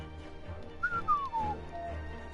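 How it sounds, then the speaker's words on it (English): A short, wavering human whistle sliding downward in pitch, slightly off-key, over a low background rumble; brief and fairly quiet. "Can hear my horrifically off-key whistling."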